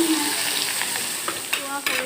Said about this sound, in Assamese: পিঁয়াজখিনি ৰঙচুৱালৈকে মই অকণমান টাইম ভাজি লওঁ।